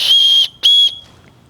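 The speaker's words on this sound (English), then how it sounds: "which does have an emergency whistle on it." Two loud, shrill blasts from an emergency whistle on a hunting fanny pack close by, each about half a second long with a short gap between, then quiet.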